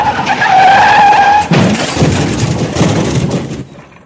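Brakes squeal on a bicycle in a dramatised audiobook scene as it skids toward a lorry, a loud tonal screech followed by a rough, noisy scraping rush that fades out, with no voices.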